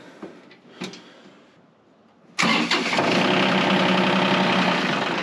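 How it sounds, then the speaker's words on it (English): A tractor engine cranks and catches abruptly, then settles into a loud, steady running roar close by, after a few quiet clicks and knocks beforehand. "So let's fire her up."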